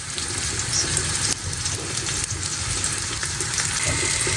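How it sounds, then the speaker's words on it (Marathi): Food frying in oil over a low gas flame, making a steady, loud hiss and crackle that holds evenly throughout with no voices. "हे असं छान आपल्याला स्लो गॅसवर असं फ्राय करून घ्यायचं आहे।"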